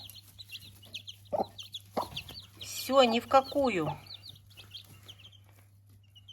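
A mother hen guarding her six chicks gives a few clucks, then a louder rapid run of agitated calls, with faint chick peeps throughout and someone speaking briefly.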